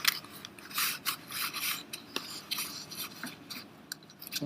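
Paper being folded and creased for a paper lizard craft: soft rubbing and scraping rustles in short repeated strokes, close and fairly quiet, with no talking.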